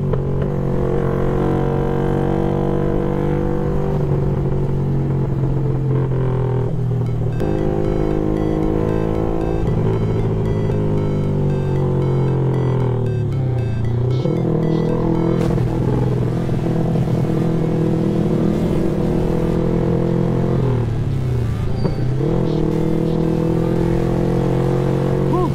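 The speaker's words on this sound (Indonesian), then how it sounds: "Padat parah sih boy kendaraan kali ini ya boy ya." Dense congested road traffic of cars and motorcycles in Makassar, a loud continuous engine drone with revving and passing vehicles swelling and fading close by.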